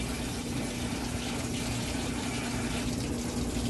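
Freezing well water pours steadily into a laundry basin inside a camper during winter, a constant rushing hiss with a low pump hum beneath it, close and unbroken, with no talking.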